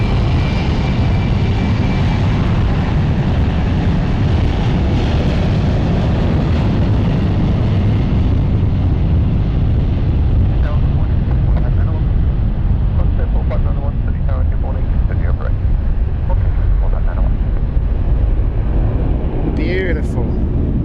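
A loud, roaring jet engine at London City Airport, a broad continuous rumble that slowly shifts as the aircraft moves, heard close by with faint voices or radio chatter under it near the end.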